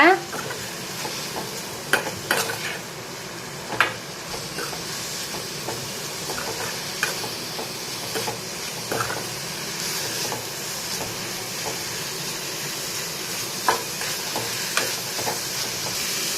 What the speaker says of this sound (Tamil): இப்போ நம்ம துருவி வச்ச தேங்காவை வந்து இதில் போட்டுக்கலாம் போட்டு நல்லா ஒரு ரெண்டு மிக்ஸ் பண்ணி விடுங்க